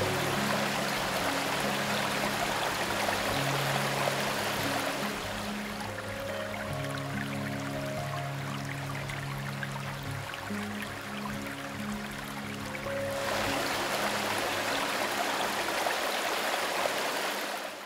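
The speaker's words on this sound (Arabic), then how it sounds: "فلا تنسى التمشي على ضفاف نهر غريندلوالد، المكان هنا غاية في الروعة وقمة الجمال." The Grindelwald river flows in a steady, close rushing wash of water that stays loud and continuous throughout, with no voices.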